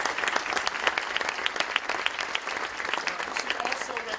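Sustained audience applause from a crowd at an awards event opening, dense clapping continuing steadily throughout at moderate loudness.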